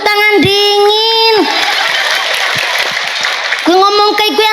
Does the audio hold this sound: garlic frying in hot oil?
no